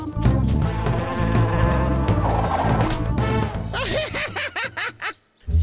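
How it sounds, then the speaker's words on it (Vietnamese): Cartoon housefly in the Boonie Bears animated series, its whiny buzz swooping in rising and falling sweeps over music and crashing effects, then fading in short bursts at the end. "Con ruồi bé xíu kia."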